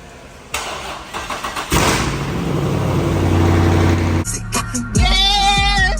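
Car engine being started and revved near a Scat Pack, stuttering cranking giving way to a loud sustained roar, then a cut and a fresh burst of revving.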